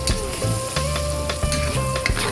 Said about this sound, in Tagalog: Lulutuin lang natin ang bawang para bumango-bango.